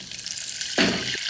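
A slice of butter hits hot oil in a pan for a white sauce, giving a steady close hiss of sizzling that swells briefly partway through.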